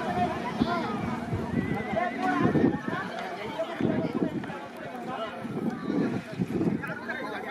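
Horses and bullock carts race at a rural horse-and-bullock cart race, with hooves clattering rapidly and a horse whinnying, under loud shouting from spectators close by.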